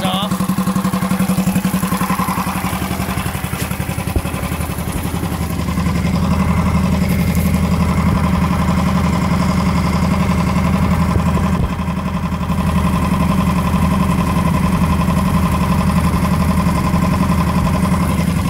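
Mercury 3.5 hp outboard motor running with its fuel supply shut off, a steady close mid-pitched engine drone holding even throughout with no breaks.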